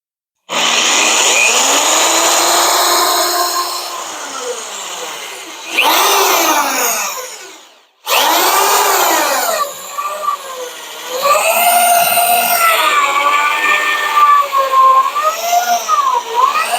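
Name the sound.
power drill drilling hole in car frame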